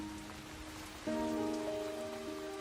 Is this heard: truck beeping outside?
no